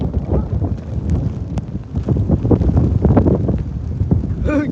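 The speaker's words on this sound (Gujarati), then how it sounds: "પવન એકદમ નો આવે છે." Strong gusty wind in a rainstorm buffets the microphone with loud, uneven low rumbling roars that rise and fall throughout, and a brief voice sounds near the end.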